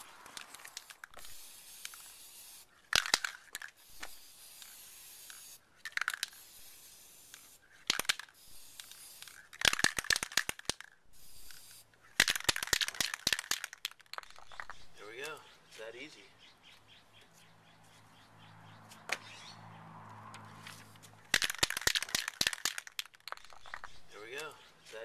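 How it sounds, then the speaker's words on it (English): Short hissing bursts of spray paint through a stencil repeat with pauses between them, close up, with quiet background sounds in the gaps. "I've got my stencil, I've got my spray paint."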